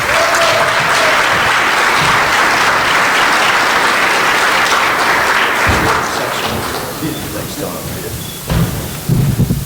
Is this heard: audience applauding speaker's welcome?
yes